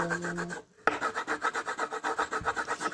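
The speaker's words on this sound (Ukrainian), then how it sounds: "І тепер беремо знову чорний олівець. Оце зарисовуємо." Black pencil shading on paper while drawing a cartoon Creeper, a steady rhythmic back-and-forth rubbing and scratching, close and fairly loud, with a brief pause early on.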